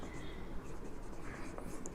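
Pen or marker scratching steadily across a board or paper as chemistry examples are written, a soft continuous scribbling close by.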